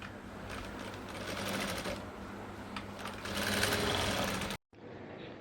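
Sewing machine stitching a skirt's waistband, a steady close whirring run of stitches for about four and a half seconds that stops abruptly, followed by near silence.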